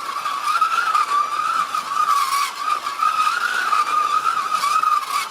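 A Mini slot car laps a Scalextric track, its small motor whining in a continuous high buzz that rises and dips in pitch through the bends, close and steady without pause.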